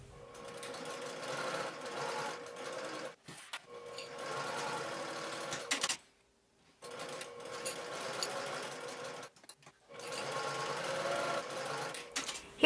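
A sewing machine stitches a pocket in several runs of steady buzzing, broken by brief stops, including one longer pause midway, the motor close and fairly loud.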